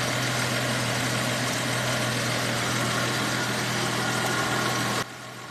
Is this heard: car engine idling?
yes